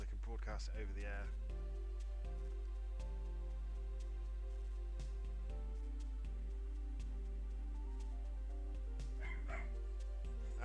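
A puppy barking and yipping in a game scene, several sharp barks early and again near the end, with voices talking over a steady low hum.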